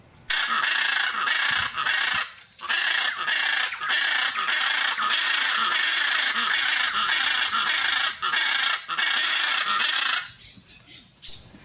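A Hyacinth Macaw, the largest parrot, in the Pantanal of Brazil gives loud, harsh calls, a raucous near-continuous squawking with brief breaks that fades out near the end.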